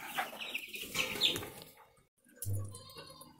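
Chickens clucking on a farm, close soft clucks and cackles in bursts, a brief quiet gap, then a low grunt and more clucking, no talking.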